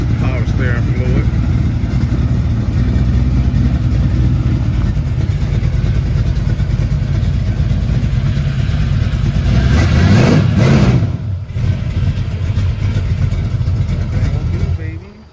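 A car engine runs close and loud, idling with a rough, steady drone, then surges in a brief rev before settling back; voices talk faintly under it.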